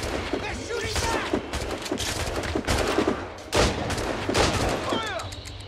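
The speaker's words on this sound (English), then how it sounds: "They're shooting back!" Soldiers firing volleys in a battle in Assassin's Creed Rogue, with scattered musket-like shots and crackling gunfire under shouted voices and combat noise.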